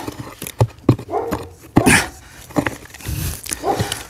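Several sharp dog barks ring out at irregular intervals, fairly close and loud, with some whimpering and background commotion between them.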